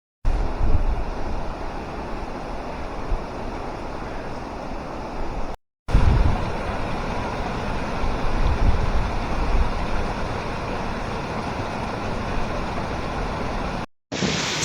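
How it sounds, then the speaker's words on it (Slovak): Wind buffets the microphone at the top of a waterfall in Asia, a loud steady broadband roar of rushing water and gusts that runs throughout with two brief dropouts. "Sme na vrchole vodopadu, Saša dokázala zliesť až tam na okraj"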